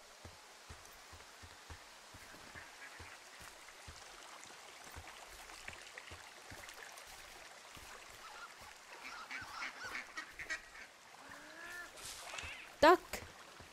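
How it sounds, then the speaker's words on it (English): Ducks and geese honking in the Firewatch video game, a scattered flock calling at moderate distance over an outdoor ambience, the calls growing busier toward the end with a sharp honk near the close. "Ducks and geese and..."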